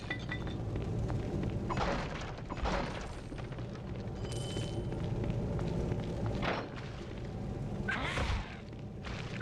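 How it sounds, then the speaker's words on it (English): A magic missile spell is cast in Baldur's Gate: Dark Alliance on GameCube, amid game sounds: repeated whooshing bursts and dull booming impacts spaced a few seconds apart over a rumbling background. "I'm gonna cast magic missile."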